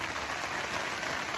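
Rain falls steadily outdoors in New Zealand, a continuous close hiss of drops on surfaces with no pauses or voices.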